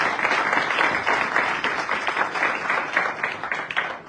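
A church congregation claps and cheers steadily at a weekly worship service, a dense continuous wash of applause with little talk over it.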